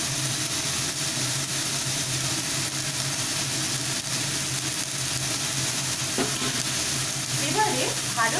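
Cubed eggplant and chopped onion sizzle steadily in a hot pan, with stirring and scraping sounds that grow more noticeable toward the end, close up and without talk.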